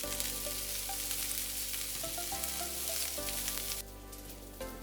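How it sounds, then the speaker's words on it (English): Bacon and shrimp fried rice stir-fried in a hot pan, with a steady close sizzle and scrapes and clinks of the spatula mixing the rice, and a brief lull near the end. "the last thing what we're going to add is the bacon. And mix everything all together."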